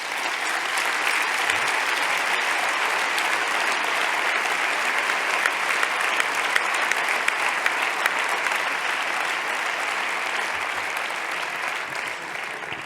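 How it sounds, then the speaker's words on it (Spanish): Strong, sustained applause from a large audience at a political party candidacy speech, loud and steady throughout with dense clapping and no talk. "os pido un fuerte aplauso para todos ellos"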